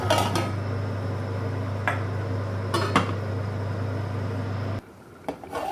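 A lid is set on a cooking pot of Sindhi-style bhuna mutton, with metallic clanks and clinks over a steady stove hum that cuts out near the end, followed by a few small knocks.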